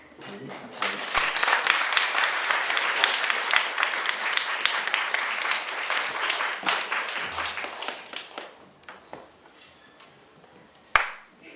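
Loud audience applause welcoming a professor to the stage at a creation science seminar, sustained for about eight seconds before fading into scattered claps and a final sharp sound.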